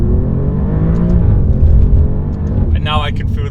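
Alfa Romeo Giulia Quadrifoglio in full race mode, its engine droning steadily and loudly close by with a rising whir and a brief higher-pitched surge near the end, while someone talks over it.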